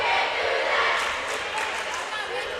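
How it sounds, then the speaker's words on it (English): Crowd at a boys' high school basketball championship rematch, Fairfield Woods against Roger Ludlowe, roars in a dense, sustained wall of cheering and shouting, with a few faint ball bounces buried beneath. "So you hear this crowd"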